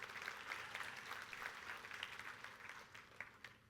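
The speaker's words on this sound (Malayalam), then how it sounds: "ഡോക്ടർ സെറീനയ്ക്ക് ഒരു ക്ലാപ്പ് കൊടുക്കണം കേട്ടോ" An audience applauds for Dr. Sereena, a faint, distant patter of many hands clapping steadily for several seconds.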